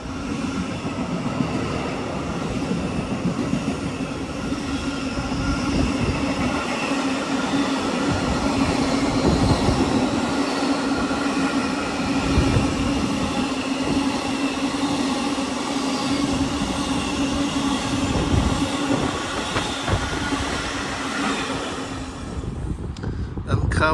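A freight train rumbles through a railway station at Lichfield in a long, steady roar with faint rail clatter that persists throughout, heard from the platform nearby.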